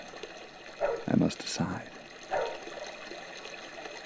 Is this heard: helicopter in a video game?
no